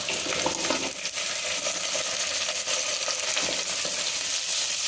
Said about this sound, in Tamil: சேர்த்து நல்லா வதக்கிடுறேன்